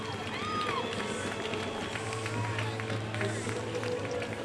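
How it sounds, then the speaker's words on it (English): A hockey arena crowd roars and cheers steadily in approval of an on-ice marriage proposal, a broad sustained din of voices and clapping with a voice talking over it. "and the crowd roars in approval"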